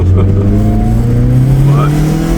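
A Skoda Felicia car pulls away with a close, loud engine drone rising steadily in pitch as it accelerates, with a voice faintly under the engine.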